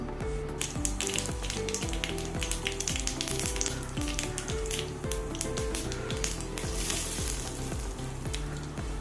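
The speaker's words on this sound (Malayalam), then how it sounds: "അതേ പാനിൽ തന്നെ കുറച്ച് ഓയിൽ ഒഴിച്ച് കൊടുക്കണം ഇത് ഒരു ടീസ്പൂൺ കടുക് ഇട്ട് കൊടുത്ത്" Mustard seeds crackle and pop in hot oil in a pan during prawn roast preparation, a loud, continuous frying sizzle dotted with sharp, rapid snaps and no speech.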